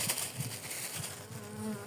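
A steady, close buzzing of many honeybees around a two-frame hive after a long winter, a dense droning hum with no voices.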